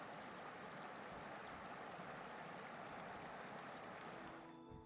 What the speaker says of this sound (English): this underground water spring